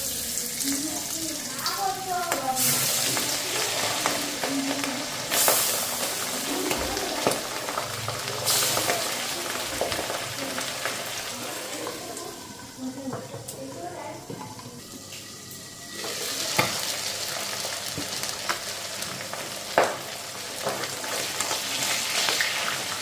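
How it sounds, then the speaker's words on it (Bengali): Pabda fish frying in a pan, giving a steady broadband sizzle that runs throughout with stirring clatter and occasional sharp pops, while a person talks over it. "আর এখন এদিকে পাবদা মাছগুলি ভেজে নেব।"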